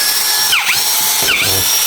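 A Makita cordless drill whirs in two short bursts, each spinning up and then winding down, loud and close, with no voices.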